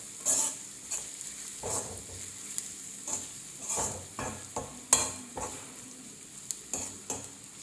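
Breadfruit and onions cooking in a pan, with soft stirring scrapes and light clinks of a utensil at an irregular rhythm over a faint, steady sizzle.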